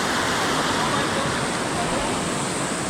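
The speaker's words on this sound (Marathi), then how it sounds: "हा एक ओढा आहे" A stream flows near the Siddheshwar waterfall in Alibaug, giving a steady, loud, broadband rush of water with no break across the whole stretch.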